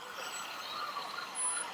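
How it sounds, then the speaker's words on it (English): A fire department ladder truck rolls by in a Fourth of July parade in Park River, its engine giving a steady rumbling drone under outdoor street noise, with a brief high tone near the end. "And the ladder truck rolling by right now. Probably hear the engines running."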